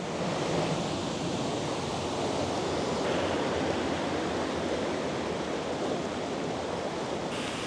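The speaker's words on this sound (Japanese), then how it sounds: "最後に滝の方まで来てみました。" The waterfall at Ginzan Onsen in Yamagata, swollen by snowmelt and recent rain, roars in a steady, broad rush of falling water that stays constant and fairly close, with no talking.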